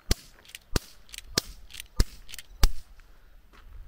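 Five or six sharp, snappy reports from a Umarex Colt Single Action Army .177 air pistol, fired one-handed in quick succession about half a second apart, each crisp crack standing alone against a quiet room.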